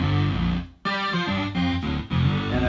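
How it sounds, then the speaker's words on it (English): Sustained distorted instrument chords through a chorus effect pedal, with a shimmering, swirling chorus, loud and close, changing chord several times with a brief gap. "that cool sound, I can now add a chorus pedal."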